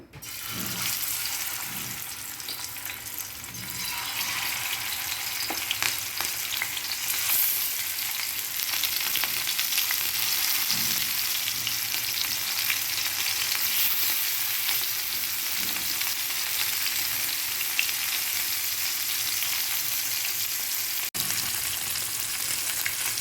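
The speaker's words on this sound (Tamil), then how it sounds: "எண்ணெய் காஞ்சிச்சு இப்போ நான் மீனை போடுறேன்" Marinated fish frying in hot oil, a steady loud sizzle that continues throughout with faint stirring knocks underneath.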